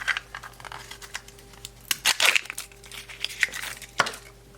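Plastic wrapper of a Mini Brands toy ball being peeled open, giving a run of close crinkling and crackling bursts with brief tearing, heaviest in the middle and again near the end, with no talking.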